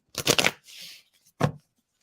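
A deck of reading cards is shuffled close up in two quick bursts of riffling and flicking, separated by a brief softer rustle, with no voices.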